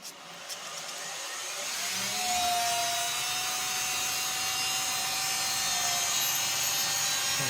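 Studer A827 tape machine rewinding a 40-year-old 2-inch tape reel, giving a loud, continuous mechanical whir with a whining tone that climbs as the reel spins up, then holds steady.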